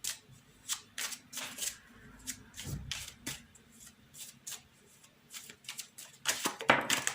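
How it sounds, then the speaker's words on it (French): Tarot cards shuffled and drawn from a deck, soft continuous riffling and sliding with intermittent crisp flicks, close and quiet, growing busier toward the end. "je vais tirer 2 cartes"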